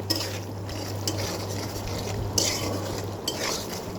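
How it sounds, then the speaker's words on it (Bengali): A spoon stirs and scrapes through chili paste frying in oil with salt in a pan, with a steady low sizzle and occasional sharper clinks of metal against the pan. The sound is close and continuous, with no speech. "লবণ দিয়ে অনেকক্ষণ ভাজা ভাজা করে নিতে হবে"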